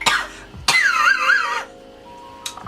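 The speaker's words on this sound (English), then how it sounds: "I was coughing, girl." A single sharp cough near the start, followed after a short pause by a loud, drawn-out throat sound with a wavering, strained vocal tone, then a quieter tail with a brief catch near the end.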